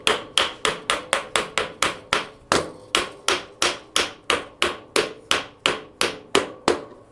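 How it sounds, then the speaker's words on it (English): A soft old mallet taps a motorcycle front brake part on a flathead project bike, about twenty evenly spaced, sharp, close knocks in a steady rhythm with no talking. "let me have my nice soft old mallet"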